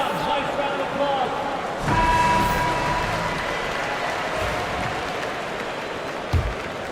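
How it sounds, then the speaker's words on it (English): At a basketball game during a Houston timeout, the arena crowd gives a steady round of applause while a commentator talks over it. "Nice round of applause"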